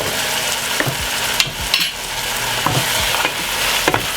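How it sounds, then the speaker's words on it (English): A spoon stirs through a sizzling pan of fried breadfruit and dumplings as seasoning goes in, with scraping strokes over a constant loud frying hiss. "Give it a stir."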